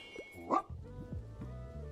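A dog in the cozy video game Tiny Bookshop gives a quick high bark or yip, a single short burst over soft, steady background game music.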